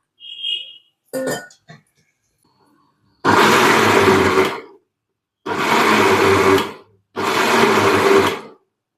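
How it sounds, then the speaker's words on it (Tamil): A mixer grinder grinds coconut with water, whirring loudly in three separate bursts of a second or so each, preceded by a few clicks and knocks. "தேங்காயில் கொஞ்சம் தண்ணி விட்டு அரைச்சிக்கிடலாம்"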